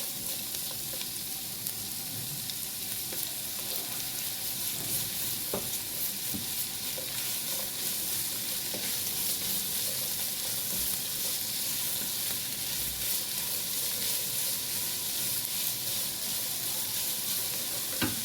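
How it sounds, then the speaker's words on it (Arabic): Onion and garlic sautéing in a pan for street-style sausage, a steady close sizzle with occasional stirring scrapes running throughout, no voices. "احنا هندي هنا كده تشويحه للبصل. تمام. وهننزل بفصين توم"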